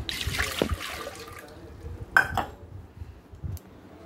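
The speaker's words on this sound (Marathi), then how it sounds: "नंतर पाणी टाकत आहे" Water splashes and trickles over fenugreek leaves being washed, with light clinks of dishes and a brief louder splash in the middle, fairly close.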